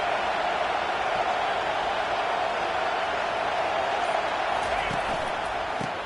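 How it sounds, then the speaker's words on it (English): A college football stadium crowd roars in a steady, loud, sustained wash of noise while a play-by-play announcer talks over it. "It is getting loud as this crowd tries to help its defense."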